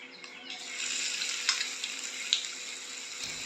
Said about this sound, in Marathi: तापलं की त्याच्यामध्ये एक चमचा मोहरी घातलेली आहे जिरं हिंग हळद घालून फोडणी खमंग करून घेते आहे